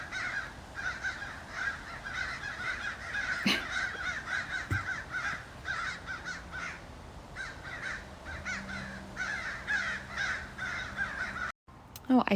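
Several crows caw insistently while mobbing a pair of hawks in backyard trees, harsh calls in quick repeated bursts at mid distance, with a brief low voice and a knock partway through.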